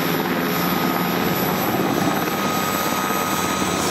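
A Colorado National Guard helicopter at Buckley Air Force Base roars steadily and loudly up close, a dense continuous rotor and engine wash with no talk over it.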